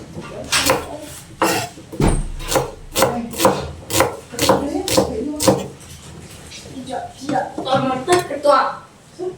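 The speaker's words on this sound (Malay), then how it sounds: "Bawang ni potong lah, nak potong gana-gana pun." Onion being cut on a board for a raw rampai pickle, with a series of sharp knife chops and clinks at an uneven pace, mixed with a person talking throughout.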